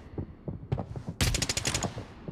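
Gunfire in a first-person shooter game, a few scattered single shots followed by a rapid, bright burst of automatic fire, fairly loud and close.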